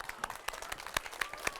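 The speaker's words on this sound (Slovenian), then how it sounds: "Aplavz." A small group of schoolchildren claps in sparse, uneven bursts, with distinct individual hand claps standing out rather than a full wash of applause.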